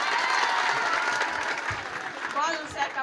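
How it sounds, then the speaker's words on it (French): An audience applauds at a school celebration held by the radio station Gabou FM in Sédhiou, marking 30 years of the Convention on the Rights of the Child. The clapping is dense and sustained, with a crowd murmur throughout. "Sous vos applaudissements."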